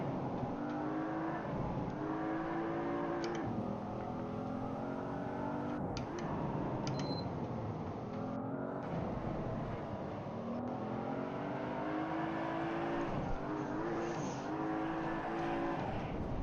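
Car engine revving and droning continuously through gear changes as a rear-driven car is whipped into drifts in a racing video game, with traction control disabled, loud and steady throughout, no talking.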